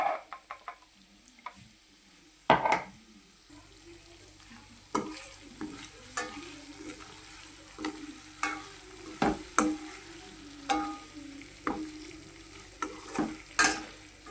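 Egg masala fries on a low flame in a pan, with soft sizzling under repeated scraping and stirring strokes that come in a steady rhythm, close by and with no talking.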